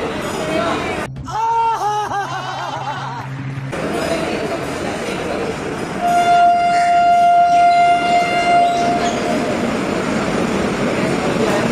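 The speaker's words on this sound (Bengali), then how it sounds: "এই যে ট্রেন চলে এসেছে" Train pulling into a station: a long, steady horn or whistle tone sounds over a loud rumble and a bustling crowd of voices on the platform, following a shorter warbling signal at the start.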